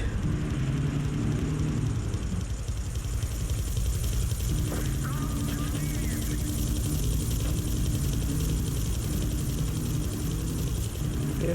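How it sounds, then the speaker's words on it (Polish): A helicopter in Grand Theft Auto III hovers overhead with a steady, loud rotor and engine drone throughout, alongside other game sounds. "bo tu już helikopter przyleciał"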